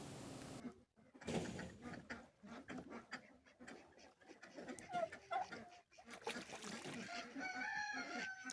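Homestead chickens cluck and call close by, with a rooster crowing among them, in uneven bursts separated by short pauses, and the flock grows busier toward the end.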